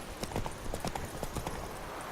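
Hoofbeats of the horse Roach galloping in The Witcher 3, a steady rapid clip-clop close up over a constant background bed, with no voices.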